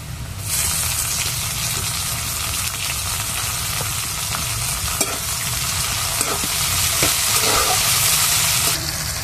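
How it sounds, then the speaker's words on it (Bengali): Chopped tomatoes sizzle and fry with lightly browned onions in a pan for a Bengali potol dish, a steady close hiss with occasional stirring scrapes and no voices. "এবার দিয়ে দেবো টমেটো কুচি।"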